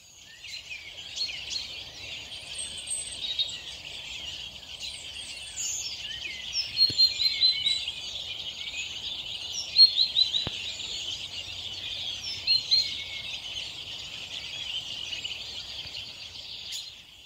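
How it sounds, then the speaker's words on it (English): A dawn chorus of many birds singing just after sunrise fills the air with dense, overlapping high chirps and trills, steady throughout with brief louder bursts, at a moderate distance and with no talking. "there was still a bit of dawn chorus. And so just listen to these birds."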